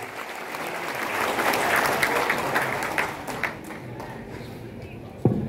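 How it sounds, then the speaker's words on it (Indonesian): A large crowd applauds at a Democrat party event indoors, producing a dense, sustained wash of clapping that swells and then slowly thins, with a few louder individual claps and a sharp knock near the end. "Tepuk tangan kita semuanya."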